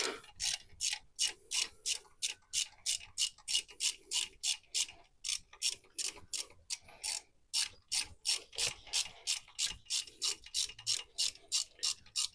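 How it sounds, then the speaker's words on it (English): A hand ratchet clicks steadily in quick repeated strokes while a bolt is removed from an engine, each pull a crisp burst of ratcheting, close and alone with no talk. "Get that bolt off."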